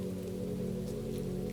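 A soft, steady patter of drizzle falls on a surface as a gentle continuous hiss over a low droning hum, faint and even throughout, with no voices.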